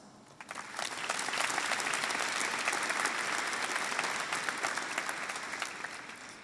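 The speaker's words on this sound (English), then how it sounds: "let's give ourselves an applause" A high school graduating class claps together at their 2021 commencement, building quickly into steady, dense applause that holds throughout with slight crowd murmur.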